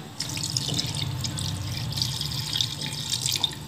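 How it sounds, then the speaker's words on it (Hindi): A glass of water is poured into a pot holding 1.5 kg of mutton on a stove, a clear splashing pour with small drips running close and fairly loud. "इसमें मैं 1 गिलास पानी का डालूंगी"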